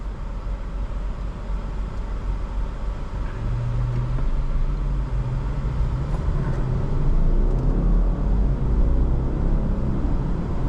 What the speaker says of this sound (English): The engine noise is not too loud and it's not obnoxious